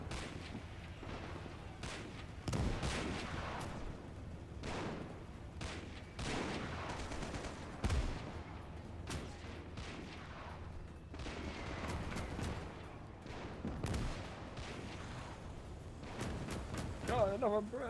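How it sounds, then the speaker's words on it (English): Autocannon fire cuts down paratroopers in a WW2 strategy game: repeated sharp, distant bursts of cannon and gunfire with scattered explosions, set under continuous talking. "these poor paratroopers. yeah, they're just running into autocannon"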